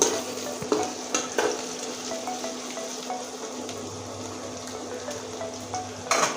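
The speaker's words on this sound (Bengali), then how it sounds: "এবার কষিয়ে নেব সুন্দর করে" Chicken masala spice paste frying and being stirred in a pan, steady sizzle with scraping stirring strokes and occasional clinks of the spoon, close and fairly loud, no talking.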